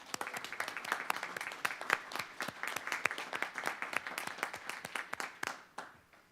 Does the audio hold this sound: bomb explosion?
no